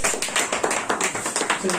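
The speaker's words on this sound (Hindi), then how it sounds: "ताली बजा दीजिए" Small group claps in a quick steady rhythm for a newly selected army recruit at an Agniveer selection gathering, close and fairly loud, with someone talking over the clapping.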